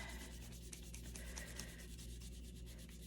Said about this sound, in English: I'm not having to rub extremely hard